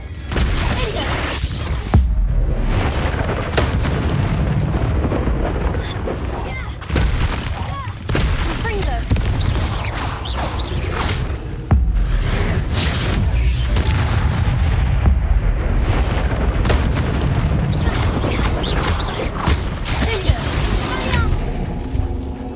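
Confringo fire-spell blasts in the video game Hogwarts Legacy, a series of heavy booming explosions with crackling, shattering debris, loud and near, repeating irregularly amid combat noise and a shouted voice.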